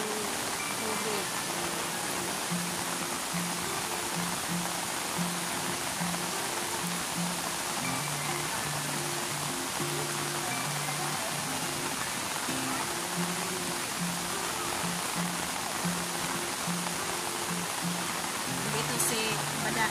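Floodwater flows continuously in a steady, unbroken rushing wash that stays even in loudness throughout, with faint voices partly buried beneath it.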